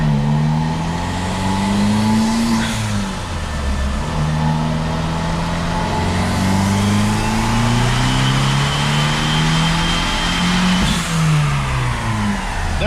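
Turbocharged 1.4 Fiat 500 Abarth engine revs hard on a dyno, loud and sustained, pitch climbing and dropping through repeated pulls, heard from outside the car.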